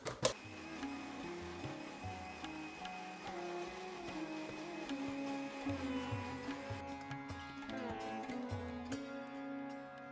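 A blender purees piping hot saag greens with ice cubes, giving a steady close motor whir with shifting pitch as the load changes, alone without talk.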